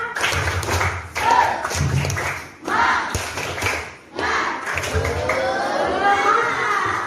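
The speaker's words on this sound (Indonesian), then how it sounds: "Ibu coba dulu tepuk semangat untuk kelas 71" A class of Indonesian junior high students doing a rhythmic spirit clap in the classroom, loud bursts of group clapping and tapping in a set pattern, broken by short pauses, with children's voices chanting along.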